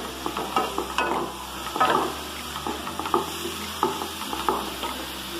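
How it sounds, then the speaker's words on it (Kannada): Pumpkin frying and being stirred in a pan for a North Karnataka jaggery pumpkin sweet (gargi): close, steady sizzling broken by regular scraping strokes of a spoon against the pan, with no talking. "ಫ್ರೈ ಆಗಲಿ ಸ್ವಲ್ಪ ಹೊತ್ತು ಫ್ರೈ ಮಾಡ್ಕೊಂಡು"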